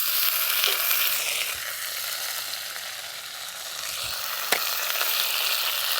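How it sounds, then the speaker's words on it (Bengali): Radishes fry in hot oil for a small river fish curry, giving a bright continuous crackling sizzle that stays steady and close, with a couple of faint utensil taps and no talking. "দেখুন মূলোগুলো একটু ভাজা ভাজা করে নিয়েছি, এরপর দিয়ে দেবো কেটে রাখা টমেটো আর কাঁচা লঙ্কা।"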